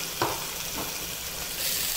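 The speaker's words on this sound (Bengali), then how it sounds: "মুরগির মাংস দিয়ে দিচ্ছি 2 কাপের মতো।" Boneless chicken breast, about two cups of small pieces, sizzles with onions in a hot pan for a samosa filling, a steady close frying hiss with a couple of brief stirring scrapes near the start.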